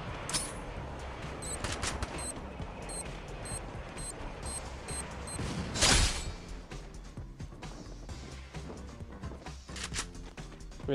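Bursts of gunfire from the battle-royale video game Free Fire in a squad match, rapid automatic volleys with one loud close shot near the middle, then continued scattered firing and game effects.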